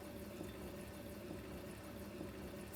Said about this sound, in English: lock open the reverse osmosis faucet and allow the water to flow until it comes to a complete stop